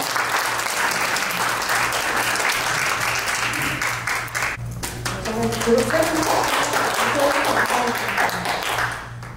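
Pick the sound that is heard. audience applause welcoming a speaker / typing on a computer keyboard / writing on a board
audience applause welcoming a speaker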